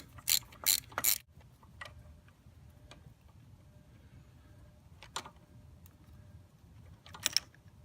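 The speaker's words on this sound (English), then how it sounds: "I'm gonna unscrew this plate." Ratcheting wrench loosening 10mm screws on a bracket plate of a 2015 Honda XR650L motorcycle engine: bursts of quick clicking ratchet strokes near the start, a few isolated clicks, then another short ratchet burst near the end, close and fairly quiet.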